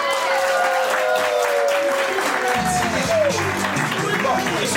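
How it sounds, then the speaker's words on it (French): Applause and cheering from a crowd at a customary wedding in Fontenay-Trésigny, a loud continuous wash of clapping with voices mixed in throughout. "Pour cela, acclamez."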